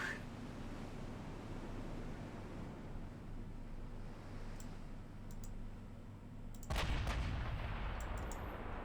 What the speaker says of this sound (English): Keep firing at that enemy battle cruiser